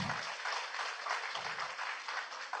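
Audience applause at a school learning symposium, a dense steady patter of many hands clapping in a hall, sustained and fairly loud throughout with no talk over it.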